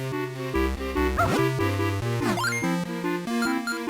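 Short yipping dog barks from a dog in The Legend of Zelda: The Minish Cap, a few quick chirpy cries mixed into loud, steady chiptune background music.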